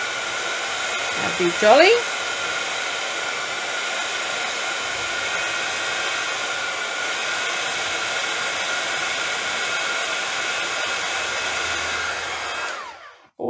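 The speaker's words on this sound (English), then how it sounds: "I'm just going to grab the heat gun and we will heat up" A heat gun blowing steadily on embossing powder, a loud continuous whirring hiss from a small fan motor that runs unbroken for over ten seconds, with a brief voice near the start before it winds down.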